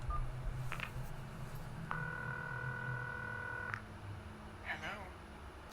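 Payphone keypad being dialed in the game Concluse, a short burst of dual-tone beeps held for a couple of seconds amid quiet ambient hum, with faint brief noises before and after.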